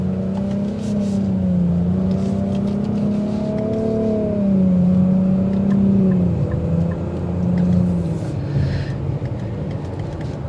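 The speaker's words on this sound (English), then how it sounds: "The engine note gets really loud." A steady, loud engine drone from a 2023 Nissan Rogue Platinum rises and falls in pitch as it accelerates through gears using paddle shifters, heard from inside the cabin.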